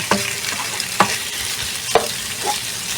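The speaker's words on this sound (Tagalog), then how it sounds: "So, igigisa lang muna natin to" Shrimp seasoned with garlic powder and paprika sauté in a pan with a loud, close sizzle, punctuated by three or four distinct stirring knocks and scrapes at roughly one-second intervals, no talking.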